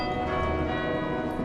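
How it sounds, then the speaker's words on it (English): Bells ring in a video game, a steady, sustained layer of overlapping metallic tones that hangs at an even level throughout, with no voices. "And I hear bells ringing now."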